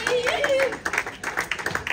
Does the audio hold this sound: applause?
yes